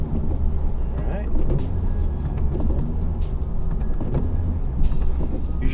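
Honda Civic Type R on the move during a 5th-to-4th gear shift test at low speed, a steady low engine and road drone with some rattling bumps throughout.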